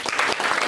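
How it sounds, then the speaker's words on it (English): A room full of people applauds Alan Beagle at a non-sports card show panel, with brief dense clapping that stays steady and fairly loud throughout. "So give a hand for Alan."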